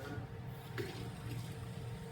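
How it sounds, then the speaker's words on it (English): Tap water runs steadily from a kitchen sink into a measuring cup, a continuous close wash of splashing and filling with no talk. "I'm going to measure 3 cups of clean, clear, cool water"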